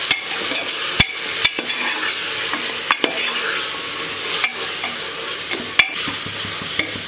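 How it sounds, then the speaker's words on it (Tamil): A ground coriander and mint paste sautéed in a pan for chicken biryani, a continuous close sizzle and frying hiss broken by sharp, irregular clacks of a spatula against the pan. "கொத்தமல்லி புதினா எல்லாம் போட்டு அரைச்சதை இப்போ நல்லா வதக்கணும்."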